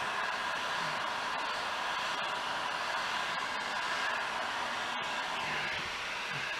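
Continuous breathy roar of a heat blower aimed at a dented car bumper, loud and steady with a few faint clicks, as it is swept back and forth to warm the plastic.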